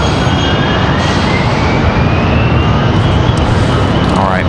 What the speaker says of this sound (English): All right, PSA Airlines back on the move.